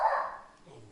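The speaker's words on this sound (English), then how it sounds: "My dog's barking again." A pet dog barks once up close, a short sharp yap that trails off quickly, with a person's voice nearby.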